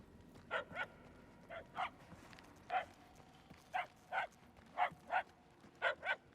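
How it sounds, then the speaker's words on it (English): A puppy barks in Marvel's Guardians of the Galaxy video game, sharp yips in pairs and singles spaced through the stretch, moderately distant over quiet game ambience. "نشوف وين الجرو اللي ينبح."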